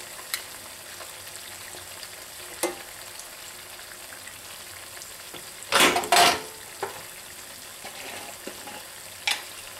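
Chopped peppers and onions frying in a pan for potatoes O'Brien, a steady soft sizzle with a brief louder burst of stirring and a few light utensil taps, no talking.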